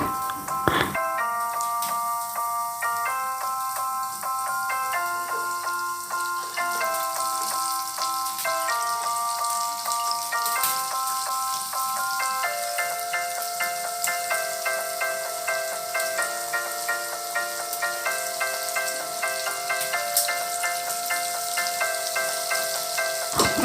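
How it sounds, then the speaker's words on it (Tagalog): Chicken skin deep-frying in hot cooking oil over high flame, a constant bubbling crackle throughout under a melodic music bed, no voices. "pour cooking oil and heat oil in high flame. Drop it one by one to fry."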